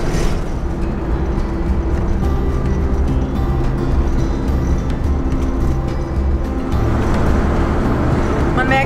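A car drives along a road, heard from inside as a steady loud engine and road rumble that continues throughout.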